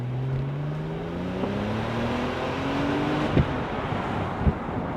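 A Porsche 911 Turbo (996), a four-wheel-drive car, accelerates hard with a rising engine note that climbs steadily through the gears, heard from inside the car with no talk.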